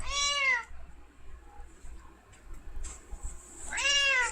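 A cat meows twice, a loud close call at the start and another at the end, with quiet background noise between them.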